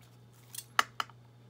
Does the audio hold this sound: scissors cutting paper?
yes